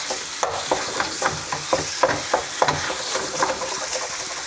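Beef mince sizzles in a hot pan while a utensil stirs and scrapes it, leaving a string of sharp, regular scraping knocks over a continuous close frying hiss, no talking.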